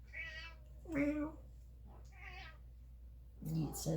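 A house cat meows several times up close, with separate drawn-out cries spaced through the scene and a double meow at the end, while a person talks nearby.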